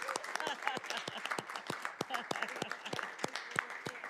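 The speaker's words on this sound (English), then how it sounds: "give her a round of applause for her 11 years of service on the Wayne County Commission" People at a Wayne County Commission meeting applaud with scattered, distinct claps in a room. A voice can be heard faintly under the clapping.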